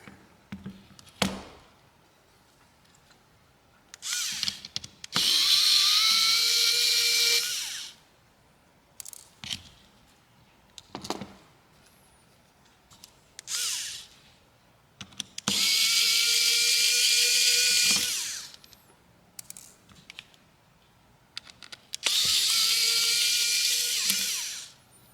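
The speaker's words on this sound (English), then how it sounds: "Alright, get those screws out." An electric screwdriver backs screws out of a Cat S62 Pro phone during a teardown, with three sustained whirring bursts of several seconds each, separated by small clicks and handling noises at close range.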